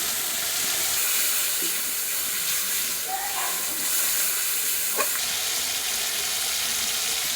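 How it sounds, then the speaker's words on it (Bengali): Cumin, ginger and dried red chilies sizzle steadily in hot oil left from frying fish, a continuous close frying hiss with a few faint clinks from stirring. "ফোড়নে দেবো জিরে, আদা জিরে আর শুকনো লঙ্কা"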